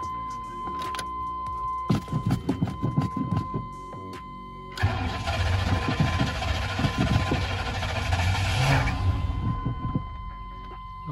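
Abandoned 1998 GMC 2500 pickup with a V8 engine cranking and trying to start, with bursts of starter whir and sputter that turn into a sustained loud rough churning, close by.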